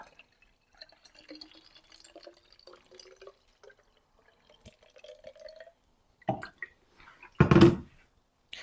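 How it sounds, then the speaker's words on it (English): Boiled, cooled water poured into a spray bottle holding vinegar, with faint scattered trickles and drips, then a short splash and a louder burst of pouring near the end, close by and without talk. "I've got some boiled cooled water and I'm just going to top that up"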